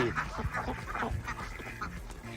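Ducks at an animal tour quack in a faint, busy chorus of short calls, some with honk-like tones, heard at a distance over background noise.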